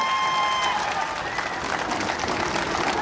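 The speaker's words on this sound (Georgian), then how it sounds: "აი ეს ტაში რომელსაც სენაკი გიგზავნით" Sustained crowd applause at a folk dance festival-competition in Senaki, Georgia, dense and steady throughout, with a faint tone fading early on.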